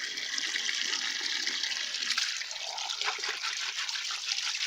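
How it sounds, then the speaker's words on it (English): Water rushes and splashes steadily while something is rinsed, a continuous close hiss with small shifting gurgles and trickles throughout. "Give it a bit of a rinse,"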